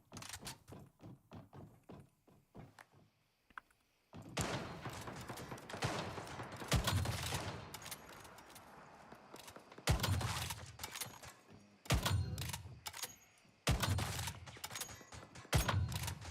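Repeated gunfire in the survival shooter Once Human: sharp broadband shots in loose bursts and single cracks, loud and close, with a rattling, crowded stretch of fire in the middle and spaced shots toward the end.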